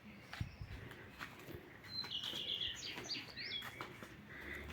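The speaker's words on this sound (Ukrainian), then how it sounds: "Пташки співають." Faint bird calls and chirps drift in from a distance over a soft outdoor background hum, with a few brief higher trills, in a landscaped yard with flower beds.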